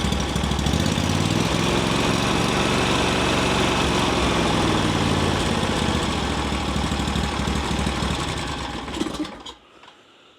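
A Briggs & Stratton 23HP EFI engine idles at tick over with a steady, buzzing drone that holds constant for about nine seconds, then cuts off abruptly into near silence.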